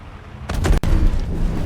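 Gunfire striking armor in the Star Citizen PTU, a dense burst of loud impacts starting partway in with a brief gap, then continuing strong to the end.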